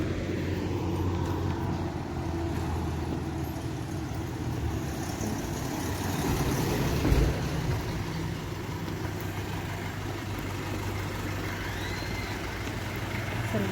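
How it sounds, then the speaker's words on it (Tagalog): A jeepney on a Baguio street rumbles with a low engine drone that swells as it passes close by, set against steady street ambience. "sakto may jeep guys"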